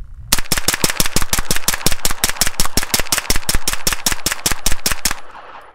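CZ Scorpion Evo 3 S1 firing a rapid magazine dump, about thirty loud sharp shots in an even fast rhythm lasting roughly five seconds, ending with a short fading echo.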